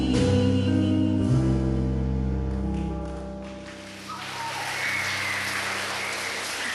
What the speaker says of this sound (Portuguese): Essas palmas vocês já sabem, né?